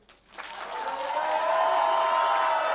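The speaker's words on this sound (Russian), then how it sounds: "Давайте дадим Богу аплодисменты." A church congregation breaks into applause and cheering during a worship service, a broad sustained wash of clapping and voices that swells after a brief pause and holds steady, loud and enveloping.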